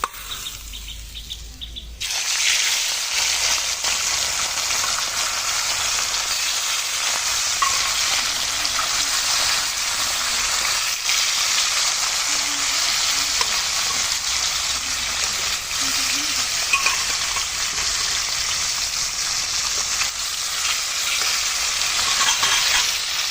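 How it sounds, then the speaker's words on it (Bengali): Loud, steady sizzling of small puti fish (pool barb) frying in hot oil, a dense hiss that starts abruptly and continues throughout, with faint voices underneath. "আমি মাছ দিয়ে দিচ্ছি, মাছগুলো ভেজে নেব।"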